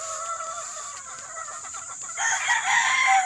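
Gamefowl roosters crow in a backyard farm, several overlapping calls rising and falling close by, with a louder, brighter crow coming in near the end and no talking.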